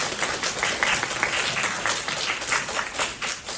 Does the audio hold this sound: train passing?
no